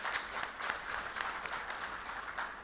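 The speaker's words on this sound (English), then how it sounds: "I think they deserve a big round of applause for that." Audience applause at an agriculture technology event in a hotel, brief, faint and even crowd clapping throughout.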